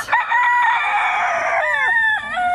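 A loud, close rooster crows in one drawn-out call on a hot day in Georgia, breaking into a few short clucking notes at the end.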